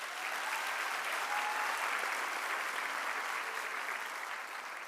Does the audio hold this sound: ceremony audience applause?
yes